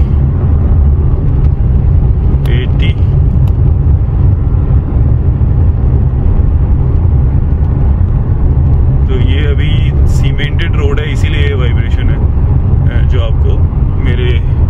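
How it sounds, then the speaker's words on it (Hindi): Tata Harrier SUV accelerating in third gear at around 40 to 60 km/h, heard as a loud, constant in-cabin drone of engine and road noise, with someone talking over it throughout. "ये अपन कर रहे हैं एक्सेलरेट थर्ड गियर 40 की स्पीड में"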